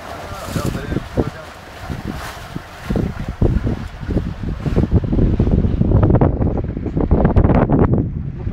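Rough, stormy sea seen from a boat, with wind buffeting the microphone and waves crashing and churning close by in loud irregular surges, while people talk over it.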